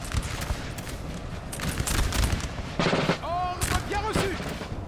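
Musket volleys crackle from infantry lines in a Napoleon Total War multiplayer battle at Toulouse, a dense, continuous spread of distant and mid-range shots under a steady battle din, with brief tonal calls or horn-like sounds near the end.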